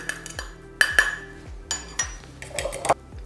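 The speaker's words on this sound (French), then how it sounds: "On va battre notre œuf en omelette." An egg is beaten in a bowl for tart pastry dough in a strawberry-rhubarb tartlet recipe. Sharp utensil clinks and taps against the dish come in quick irregular bursts, close and clear, with no talking.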